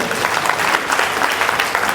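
Brisk audience applause at a college Q&A session, a crowd of students clapping densely and steadily for the whole short stretch, loud and close with no talk over it.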